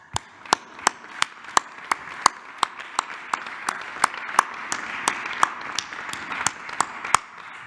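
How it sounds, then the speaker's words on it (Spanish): Business leaders from the oil industry receive applause at a presidential press event: a slow, evenly spaced run of distinct claps, fairly faint, with a few voices murmuring underneath. "Si me permite yo darles un aplauso a los todos."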